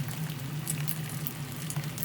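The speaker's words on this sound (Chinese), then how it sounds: "现在我们把这个洗过了倒入锅中，凉油小火慢慢的炸" Washed peanuts slowly frying in oil that started cold, over low heat in a wok, giving a steady soft bubbling sizzle with faint crackles and no talking.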